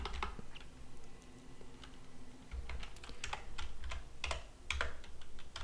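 Fingers tap quickly on a computer keyboard in irregular bursts of close, soft clicks with short pauses, with no talking.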